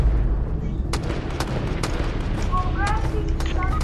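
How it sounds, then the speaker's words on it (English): Gunfire in Fortnite, several sharp distant shots popping at irregular intervals over a constant game background, with brief tonal effects near the end. "Oh, I saw gunshots too."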